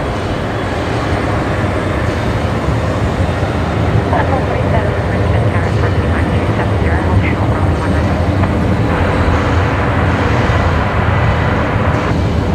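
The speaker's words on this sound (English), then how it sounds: "This is Velocity 986 heading off to Sydney tonight, runway 19 left." A jet airliner departing on runway 19 left at Brisbane Airport at night, a loud continuous broadband engine roar that stays steady throughout, heard from the airfield perimeter.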